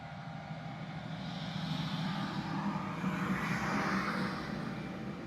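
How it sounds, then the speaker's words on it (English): A big truck passes on a rural road through the woods, a faint, distant low rumble that swells gently toward the middle and then eases off, with no voices. "that was a big truck"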